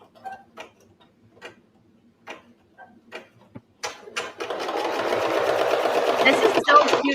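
An embroidery machine stitching a Valentine's design; soft ticks and clicks under speech give way to a steady, close, rapid mechanical stitching drone.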